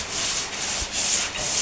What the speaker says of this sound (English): we're hitting this with some 80 grit